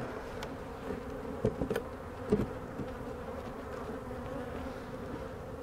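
Honey bees buzzing steadily around an open beehive during a hive split, a dense continuous hum close by with a few brief louder passes, no talking.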